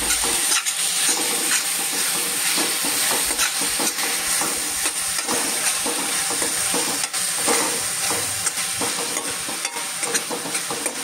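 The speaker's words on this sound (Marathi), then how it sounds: "हा टोमॅटो परतून घ्यायचा." Finely chopped tomatoes sautéed in a hot pan for a shev tamatar curry, giving a steady, close sizzle with frequent stirring scrapes throughout, no voices.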